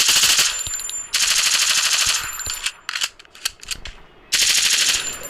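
UMP submachine gun fire in the Free Fire video game comes in loud sustained rapid bursts, broken by a quieter run of clicks and clacks as the weapon reloads, with no talking.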